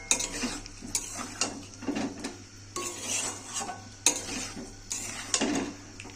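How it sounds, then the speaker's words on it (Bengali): Spoon stirring and scraping potatoes in spice masala in a pan for egg biryani, repeated rhythmic metal clinks and scrapes over soft frying sizzle, close and alone. "এবার আমি আলুগুলো দিয়ে মশলাটা কষিয়ে নেব"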